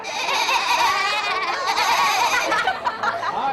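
Human voices imitate loud, wavering goat bleats in a goat-bleating contest at a lively live event, with a continuous chorus of cries mixed with laughter and crowd noise throughout.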